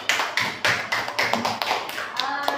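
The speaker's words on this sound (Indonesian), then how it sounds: "Sebelumnya kita kasih dulu aplaus yang meriah untuk beliau" Applause for a speaker at an event, a run of sharp, separate claps repeating at an uneven pace, close and fairly loud, with a little voice underneath.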